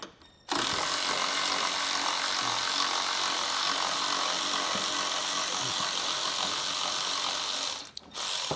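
Power tool spinning out 10 mm bolts from a bracket on a 2020 Chevrolet Silverado: one loud, continuous ratcheting whir that runs for about seven seconds, then a brief pause and a restart, with no talk.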